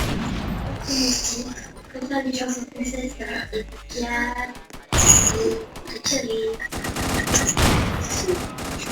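Sniper gunfire in a Roblox game, sharp cracks and bursts of shots scattered through the clip alongside game sounds and people talking.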